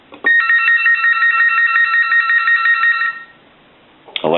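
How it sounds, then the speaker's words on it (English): An Astral Telecom Galway Crystal telephone under repair in England rings once with a loud, close electronic warble lasting about three seconds, followed by quiet and the start of another ring. "we will ring the telephone one more time"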